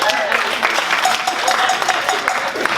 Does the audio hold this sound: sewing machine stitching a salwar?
no